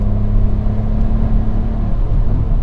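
A modified BMW 135 pulls in third gear, its engine a steady, loud low-pitched drone with a constant rumble and no voices over it.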